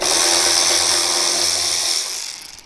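A power tool whirs as it removes the bottom fairing bolt on a Harley-Davidson Road Glide motorcycle, a loud close, steady buzzing drone that winds down near the end.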